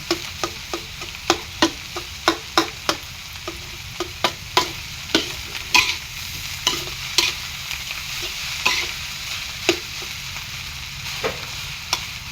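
Rice being stir-fried in a pan, with a spatula scraping and clacking against the metal in quick irregular strokes over a steady soft sizzle, close and fairly loud, no talking.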